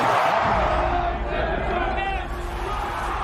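Over 54,000 Oakland A's fans fill a baseball stadium with a loud, roaring crowd noise, with shouts and whoops rising through the din.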